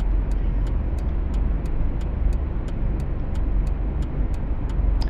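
The engine of a 2014 Mercedes-Benz E-Class in sport mode in City Car Driving gives a steady, loud, low hum, with faint regular ticking above it throughout.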